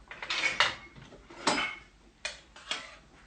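A spoon scrapes and clinks against a cooking pot while lamb kebab, saag aloo and tomato rice ingredients get stirred, producing a few distinct metallic taps and knocks spaced irregularly at moderate volume.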